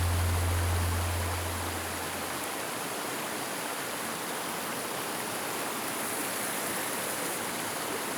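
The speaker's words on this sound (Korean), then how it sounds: "입구부터 들리는 시원한 물소리." Cool stream water rushing through the mossy Y valley of Hallasan on Jeju, a dense continuous roar of flowing water, steady and close, with a low rumble fading out in the first couple of seconds.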